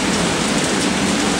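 Steady rain falling on a Toronto street, a dense continuous hiss of drops on pavement filling the scene evenly with no voices.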